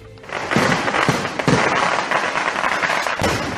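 Fireworks display at a Hindu temple in Kerala, southern India, heard as a dense stream of crackling bursts with several sharper thuds, loud and continuous with no voices.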